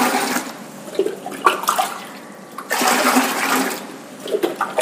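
Splashing, gushing water in bursts, pouring and sloshing as an aquarium filter is rinsed in tank water, with brief pauses between surges.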